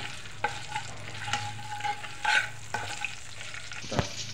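Spices and green chillies crackle and sizzle in a pan over medium heat while a spoon scrapes and stirs at intervals, with a low steady hum underneath.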